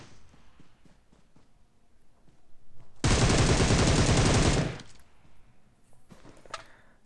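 Rapid automatic gunfire burst in PUBG Mobile during a solo-versus-squad match, one loud sustained volley of about two seconds standing out over quieter game ambience, followed by faint footsteps and clicks.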